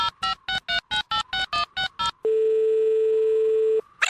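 A telephone line repeats a quick series of pulsed ringback beeps, then a steady tone holds for about a second and a half before cutting off, with no talk.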